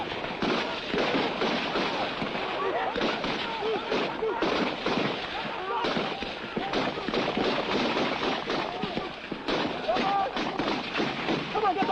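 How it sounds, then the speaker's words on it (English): Dense, continuous crackle of rifle and artillery fire in a Biafran war battle, loud and sustained throughout with overlapping bursts and a voice heard in the mix. "Most of their bullets are going into the ground ahead."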